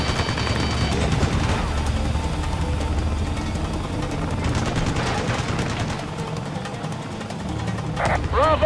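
Sustained automatic gunfire in the combat flight game Ace Combat Assault Horizon, a dense rattling barrage that keeps going throughout, with some crashing impacts and a brief radio-like tone near the end.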